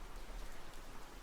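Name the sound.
rain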